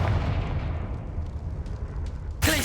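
Confringo spell blasts in Hogwarts Legacy: a rumbling, booming burst at the start that decays into a noisy wash, followed by a sharp bright impact near the end, all fairly loud with no talk.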